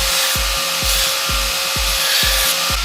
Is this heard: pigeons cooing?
no